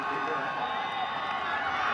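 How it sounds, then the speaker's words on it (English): The home crowd at a high school state football championship cheers and roars steadily, a dense wall of voices and shouting that stays continuous and loud throughout. "Centennial's crowd trying to give the boys a boost"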